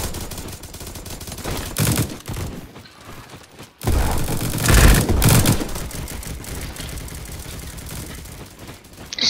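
Gunfire rings out in the video game Bad Business, with loud bursts of rapid shots and sharp cracks coming in clusters, broken by a brief lull before another heavy volley.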